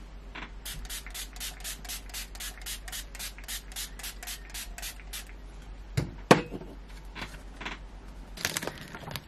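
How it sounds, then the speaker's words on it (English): A run of quick, hissing bursts of makeup setting spray repeats steadily for several seconds, followed by softer rustling of fanning and a couple of sharp clacks near the end. "So I'm gonna spray and fan."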